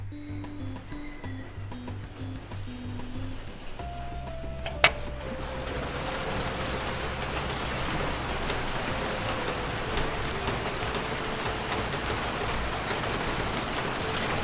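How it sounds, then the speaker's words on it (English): Hard tropical rain pours down before a typhoon in Saigon, Vietnam, a dense steady hiss heard from a rooftop, with a faint low hum and a sharp click early on. "It's raining like crazy outside."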